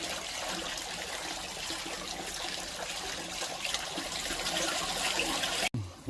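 Settled water trickles between the chambers of a home septic tank, a steady, quiet flowing wash that runs evenly before a short knock near the end.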